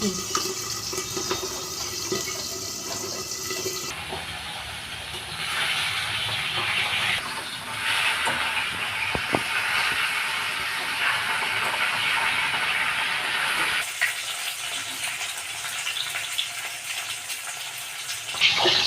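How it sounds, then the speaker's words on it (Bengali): Pabda fish fry in hot oil under a lid, making a loud, continuous hissing sizzle with scattered pops whose tone shifts a couple of times, heard up close without speech. "পাবদা মাছ মাছ খুব ফোটে, ওই জন্য ঢাকা দিয়ে দিলাম।"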